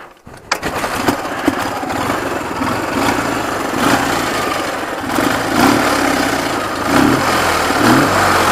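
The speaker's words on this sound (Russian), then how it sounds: "также хорошо и левый, и правый цилиндр набирает обороты" A twin-cylinder motorcycle engine runs during a repair check for lost power. It idles with a steady throbbing drone that swells several times as the throttle is opened, close and loud.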